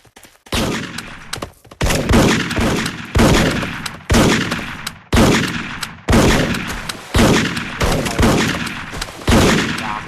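Video game gunfire rattles out in about nine loud, close bursts of rapid automatic shots, each separated by a brief pause, with no voices over it.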